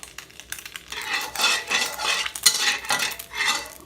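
Vegetables are stir-fried in a pan with a utensil, giving bursts of scraping and clattering metal in an uneven rhythm, close and moderately loud, with no talking.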